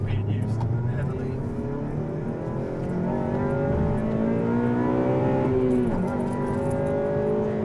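A Honda Civic Type R engine revs and pulls hard, its tone climbing and falling through several smooth sweeps, loud and close, with people talking over it.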